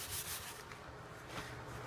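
Hard scrubbing with BKF cleanser, a steady run of rough rubbing strokes at close range with no talk.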